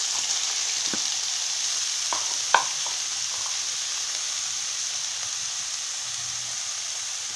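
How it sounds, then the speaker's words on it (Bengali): Salted spinach leaves fry in hot oil in a wok, giving a steady close sizzle with a few clinks and stirring knocks. No one speaks. "কড়াইতে তেল গরম হয়ে আসলে এতে নুন মাখানো পালক দিয়ে দিই।"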